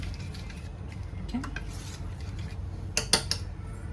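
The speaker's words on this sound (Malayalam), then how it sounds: "ഈ ശർക്കര പാനി ഇതിലേക്ക് ഒഴിച്ചുകൊണ്ട് നമുക്ക് ഇളക്കട്ടോ." Jaggery syrup being poured into a snack mix and stirred in a pot, with soft scraping and a few sharp clinks of a utensil against the vessel near the end.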